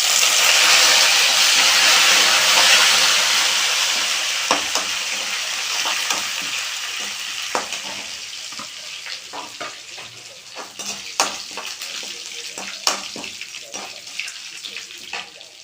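Curry leaves hit hot oil in a pan while kovil puliyodharai is being tempered, giving a loud, steady sizzle that slowly fades, broken by sharp pops and crackles and the scrape of stirring.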